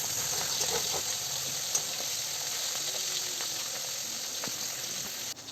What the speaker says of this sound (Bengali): মাছটা ভাজা হয়ে গেল, মাছের মাথাটাও ভেজে নিচ্ছি।